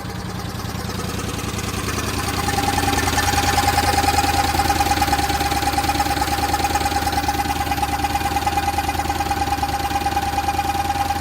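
A Subaru Justy 4WD engine idles with almost no muffler, giving a raw, rapid rhythmic putter that swells a little after two seconds and then holds steady and close, with no talk over it.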